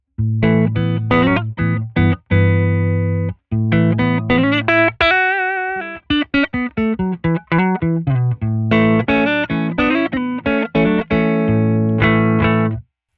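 Electric guitar played through a Flower Pedals Sunflower Deluxe tremolo pedal, notes and chords chopped into rapid rhythmic bursts, loud and close, with no talking.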